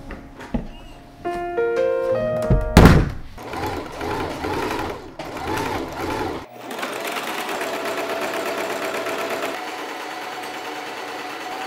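A sewing machine stitches denim panels from thrifted jeans together for a jacket, with short bursts of fast mechanical chatter followed by a longer steady run, close and fairly loud.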